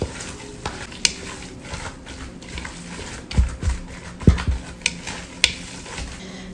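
Ground meat is worked by hand with salt, pepper, garlic and meat spices, giving soft, quiet squelching and stirring with a few brief louder smacks and clicks near the middle.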